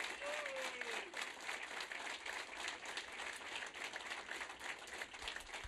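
A steady wash of crowd applause at a South Carolina primary campaign speech, many hands clapping continuously at a moderate distance, with a faint whistle early on.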